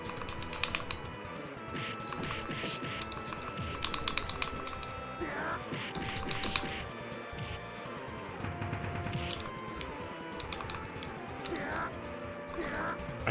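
Mechanical keyboard clacking in scattered bursts during play of the game Black Thorne, layered over the game's own music and effects, with no talk over it.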